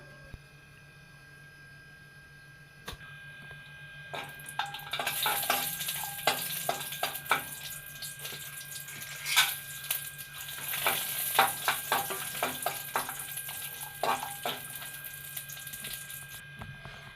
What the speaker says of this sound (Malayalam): കുറച്ച് കിസ്മിസ് കാഷ്യൂ നട്ട്സ് വറുത്ത് പോരാം